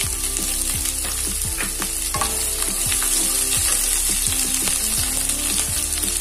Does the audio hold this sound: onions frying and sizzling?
yes